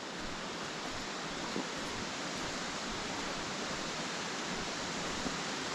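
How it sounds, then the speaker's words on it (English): A fast-running Stichill waterfall pours in a steady, close, unbroken rush of white water that never lets up, with no voices. "Right, here we are at the waterfall."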